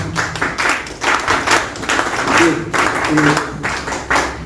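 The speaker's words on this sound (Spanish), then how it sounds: "Fuertes palmas para recibirlo también." A crowd claps steadily, a dense patter of applause at moderate volume that swells and fades in waves.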